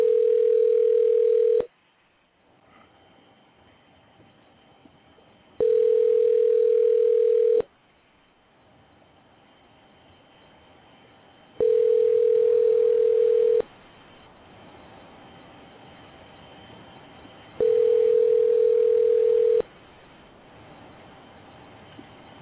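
Telephone dial tone on an outgoing call to a radio show guest, four loud steady tone bursts about two seconds each, separated by quieter hiss-filled gaps.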